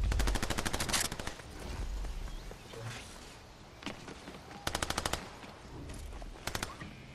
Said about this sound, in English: there's someone is shooting at the bot